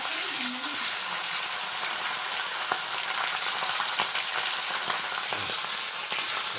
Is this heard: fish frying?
yes